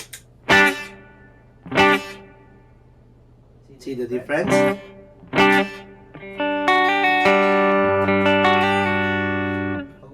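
An electric guitar played through a spring reverb pedal rings out in separate struck chords, each with a lingering splashy tail, then a sustained chord swells; someone speaks briefly between them.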